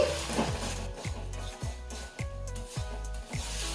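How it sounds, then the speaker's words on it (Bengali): A spatula scrapes and stirs ground spices, including Kashmiri red chili powder, in a pan for an okra curry, in a steady series of rhythmic scraping strokes close by with no talking. "এবারে এই সমস্ত মশলা ভালো করে কষিয়ে নিচ্ছি"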